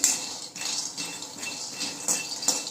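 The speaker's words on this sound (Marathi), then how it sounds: "त्याच्यामध्ये आपण शेंगदाणे टाकून घेऊया आणि शेंगदाणे आता आपण एका उलथाने किंवा तुमच्याकडे जे असेल पळी उलथानं तर त्यांनी व्यवस्थित भाजून घेऊया" Peanuts dry-roasting in a hot kadhai, stirred with a spatula, give a steady stream of close metallic scrapes, clinks and rattles with a soft sizzle underneath.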